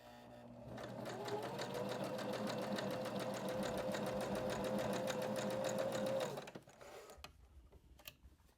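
A sewing machine runs steadily on its widest zigzag setting, a fast even whir with a ticking needle rhythm lasting about six seconds before stopping, followed by a few faint clicks.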